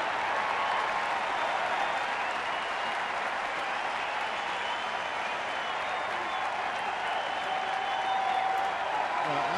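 A baseball crowd at a Milwaukee–Chicago game applauds a perfectly executed bunt, steady broad clapping and cheering from a large stadium audience that holds loud and even throughout.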